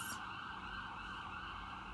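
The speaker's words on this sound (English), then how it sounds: "You hear the ambulance?" Faint ambulance siren wails from outside, a steady high tone heard through the room at low level with no speech over it.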